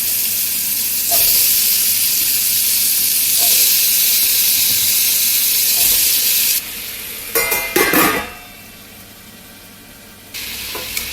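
Potato pieces sizzle loudly in a pan with fried chilli paste, tempered with cumin, urad dal, mustard seeds, turmeric and curry leaves for a green chilli potato curry; a steady hiss runs throughout, then quietens and returns, with a few clattering stirring scrapes in between.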